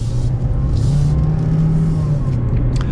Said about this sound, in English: we'll give it one acceleration just in normal mode here